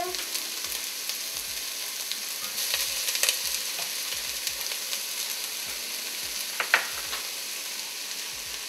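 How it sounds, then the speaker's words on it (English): Onions, ginger, garlic and green chili sauté in hot oil after mustard seeds, a continuous soft sizzle with occasional stirring clicks and faint pops, no talking. "Saute the onions, ginger,"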